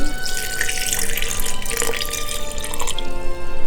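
Brine pours steadily over cabbage in a jar with a splashing, trickling rush, close by and continuous, easing off toward the end.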